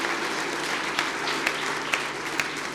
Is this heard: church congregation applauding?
yes